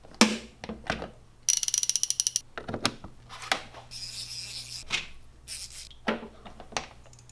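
Ratchets set into a Tool Grid toolbox, with a quick burst of close ratchet-pawl clicking, metallic clacks as tools are placed, and several more short ratcheting runs in a quiet room.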